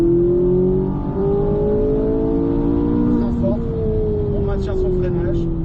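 A car accelerating on a driving lesson track, its engine note rising steadily and loud near the listener, then easing as the driver lifts, with a voice briefly talking over it.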